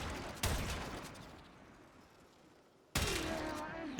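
Two gunshots fired from a weapon in the video game Warframe, each a sudden sharp burst with a fading tail, separated by a quieter stretch of low game ambience.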